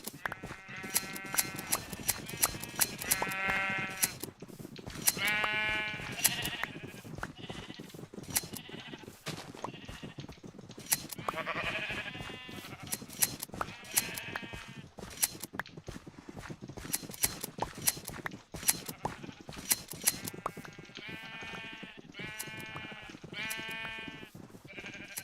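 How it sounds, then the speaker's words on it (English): Sheep in Minecraft bleating repeatedly during shearing, a series of close, clear bleats in irregular bursts over about twenty-five seconds, with soft clicks and thuds between them and no talking. "It's time to shear these motherfucking sheep."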